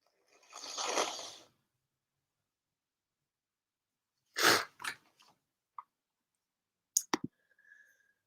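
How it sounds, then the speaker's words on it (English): A breathy sneeze burst is followed by a few sharp, quiet bursts and clicks after a pause, with faint rustling between them. "Operatic sneeze."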